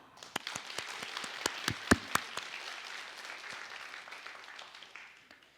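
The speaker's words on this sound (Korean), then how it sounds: "서로를 위해 박수 한번 쳐볼까요?" At a youth forum on preventing cyber violence, a room of attendees breaks into applause. Scattered sharp individual claps merge into a steady patter that gradually tapers off toward the end.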